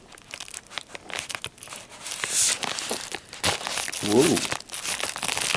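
A package being cut open from the side, with crinkly plastic crumpling and tearing sounds in irregular bursts, close up, while a person talks briefly.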